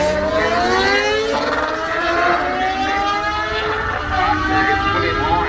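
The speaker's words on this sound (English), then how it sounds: "William Hine on board a Suzuki GSXR 1000." A Suzuki GSX-R1000 motorcycle makes a drag strip run, its engine winding up in a loud, rising whine through successive gears, with a voice talking over it.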